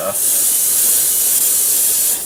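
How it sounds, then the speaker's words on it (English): Airbrush spraying paint thinned two parts paint to one part thinner onto a figure, a steady bright hiss that runs for about two seconds and cuts off sharply. "So it sprays really nicely."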